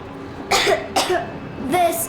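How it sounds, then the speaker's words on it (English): Three separate coughs from a young boy in the video game Metro Exodus, spaced about half a second apart, close and fairly loud over a quiet background hum. "I have this cough."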